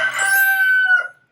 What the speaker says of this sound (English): we got a rooster on the property